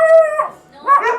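Rescue dogs at an animal shelter in Dharamshala giving close, loud, drawn-out howls, one tone-steady howl sliding down, a brief gap, then another rising howl.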